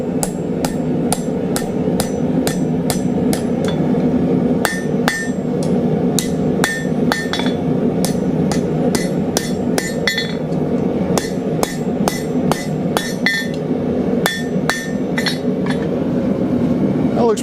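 A blacksmith hammers a steel bar on an anvil to bend it while making a Civil War–style portable campfire grill, a long run of loud, ringing metallic strikes in uneven bursts with short pauses.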